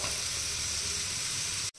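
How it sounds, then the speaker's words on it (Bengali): Vegetables fry in a hot pan with a steady, close sizzle and hiss that runs unbroken, then cuts off abruptly near the end; no one speaks. "এবার এগুলো আমি কিছুক্ষণ ভেজে নিব, তারপরে কিন্তু আমি ডিমটা দিয়ে দিব। তো এগুলো কিছুক্ষণ ভাজা হোক।"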